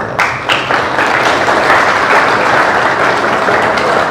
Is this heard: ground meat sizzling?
no